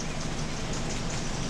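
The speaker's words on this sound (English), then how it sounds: "It's been raining nice and softly. I'd say most of today it's just been a light rain." Light, soft rain falling steadily outdoors, an even wash of fine pattering with no talking and no gaps.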